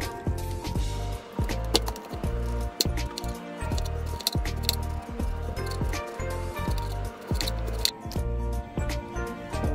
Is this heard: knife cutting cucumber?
yes